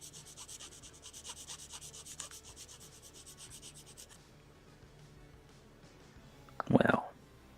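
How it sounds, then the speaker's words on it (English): A Bandai HG plastic model kit part for the Sakura Wars 2 Kobu-Kai is gently rubbed into place in a seesaw motion: faint, steady scratchy rubbing strokes, then quiet before a brief louder clack of plastic. "So just gonna gently seesaw motion, rub it into place."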